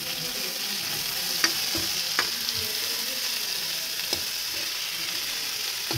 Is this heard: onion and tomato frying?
yes